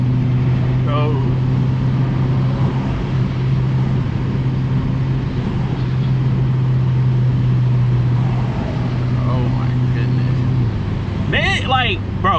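BMW F90 M5 cruising on the road with a steady, loud engine drone and tire roar throughout, a shift in pitch near the end, while people talk over the cabin noise.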